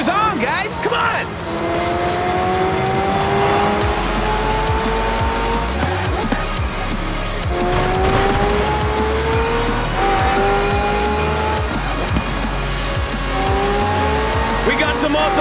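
Race cars and hypercars roar through streets in Forza Horizon, engines revving and rising in pitch through repeated gear runs, with tire squeals and loud, continuous game sound at close range.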